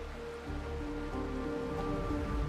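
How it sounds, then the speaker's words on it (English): Rain in the video game Honkai: Star Rail, a steady wash of falling rain, moderately loud and unbroken, mixed with soft sustained musical tones. "This is the sound of rain."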